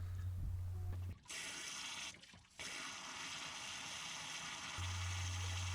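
Water gushes continuously while flushing out the coolant system of a Mk1 Renault Clio, a steady hiss of running water with two brief interruptions, preceded and followed by a low hum.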